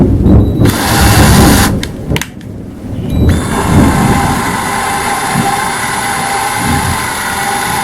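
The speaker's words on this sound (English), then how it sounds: "Here we go with the drill again." A power drill turning a valve to lap it into its seat in a 1936 Austin 7 engine during a rebuild: loud whirring bursts that start and stop, then a long steady high whine close by.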